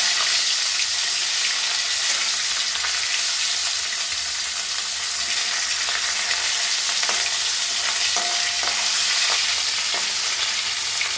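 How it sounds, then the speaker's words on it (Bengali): Fish frying in hot oil in a pan makes a dense, continuous sizzle, loud and close, with a few brief clinks and pops near the end, and no one speaks. "মাছটা ভাজা হচ্ছে,"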